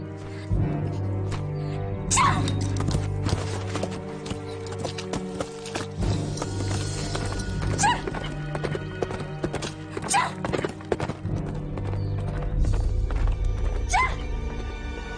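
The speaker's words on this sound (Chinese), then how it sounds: "把马牵来，快走，走啊！" Horses clip-clopping on hard ground in a wartime battle drama scene, steady overlapping hoofbeats with occasional sharper strikes, loud and close under tense music and a brief whinny.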